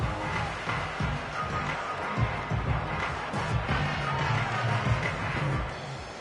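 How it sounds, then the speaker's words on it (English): Home crowd applauding in the Madden 25 video game during a Saints versus Buccaneers football match, a continuous rumbling stadium crowd noise with scattered claps and cheers, steady and fairly loud throughout. "And the home crowd applauding."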